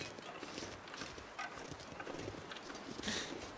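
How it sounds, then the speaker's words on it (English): Crunchy footsteps on snow in the survival game The Long Dark, a steady run of close crisp crunches with a brighter burst near the end, over a faint background hiss. "You love the crunchy footstep sounds. I know. That kind of crunchy snow sound is wonderful."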